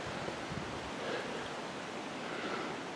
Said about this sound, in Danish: Her strømmer vandet så ned imod broen.